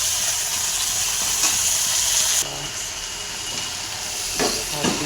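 Saag greens sizzle steadily with onion in a hot frying pan, a dense, close hiss that drops a little partway through, with a few soft stirring scrapes near the end.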